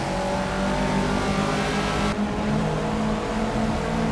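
Caterham race car in Project Cars racing on a wet track, its engine droning loud and steady with a constant revving tone throughout, with no pauses.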